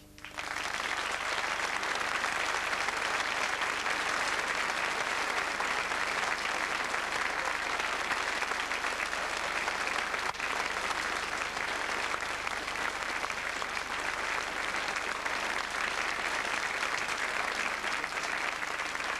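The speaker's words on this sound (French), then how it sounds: "Je vous demande d'applaudir le jeune homme qui a pour nom Monsieur Guettari." Audience applause in a theatre hall during a televised operetta special, a loud, continuous wash of clapping from a large crowd that starts abruptly and holds steady for nearly twenty seconds.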